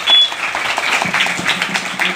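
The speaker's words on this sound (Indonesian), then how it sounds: "Mana tepuk tangannya?" Audience clapping at the start of a games event, a brief steady wash of applause with a short beep at the outset.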